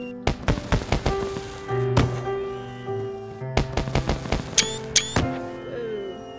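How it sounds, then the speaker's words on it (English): Fireworks going off over a rooftop in the survival game DayZ: a rapid series of sharp bangs and crackling bursts with whistling streaks, some clustered, loud and close, with no talk. "Raven brought us all up to the roof for an impromptu fireworks display."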